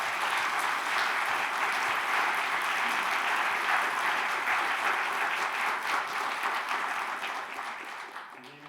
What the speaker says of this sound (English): Please give a round of applause for Keiichiro Hirano.